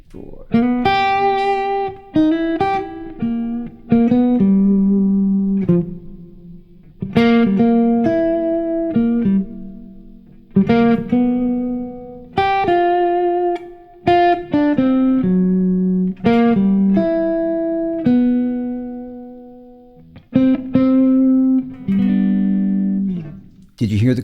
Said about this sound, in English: I'm just going to play a blues by myself and just use notes from those voicings.